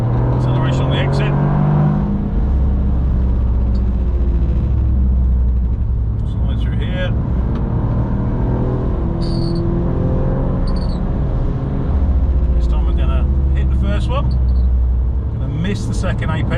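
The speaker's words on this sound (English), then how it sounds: "Acceleration on the exit." A Toyota GR Yaris accelerating hard out of a corner on the Nürburgring Nordschleife during a track day: a loud in-car engine drone and rumble builds in pitch, with a voice talking over it at times.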